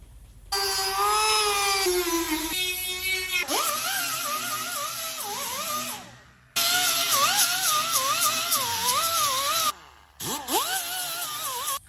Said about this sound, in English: very handy tool to have is a rotary tool